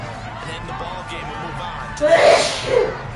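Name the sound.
sneeze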